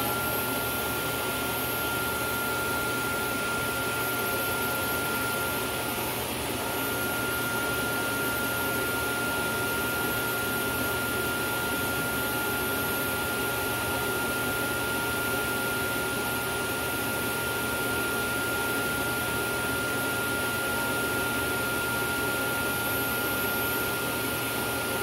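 A Dyson DC22 vacuum cleaner runs with its wand attached, giving a steady, loud whirring drone with a high motor whine that holds unchanged throughout.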